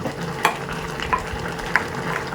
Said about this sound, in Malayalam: എല്ലാ കഷ്ണങ്ങളും നന്നായിട്ട് വെന്ത് കിട്ടാനായിട്ട് നമ്മളിതൊന്ന് നന്നായിട്ട് ഇളക്കി കൊടുക്കണം